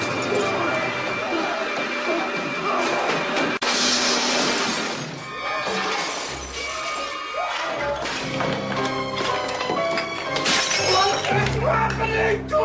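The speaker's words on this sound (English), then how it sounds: "Cue epic scene of Nic Cage smashing stuff." Nicolas Cage smashes things in a film scene, with loud shattering and breaking crashes throughout, layered over dense background sound and music.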